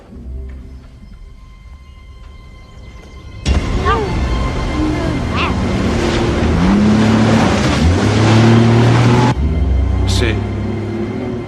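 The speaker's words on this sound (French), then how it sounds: "C'est un moteur qu'on entend." An engine starts rumbling abruptly and keeps running loud and steady, its tone rising and shifting, then the noise cuts back partway before continuing; voices speak briefly over it.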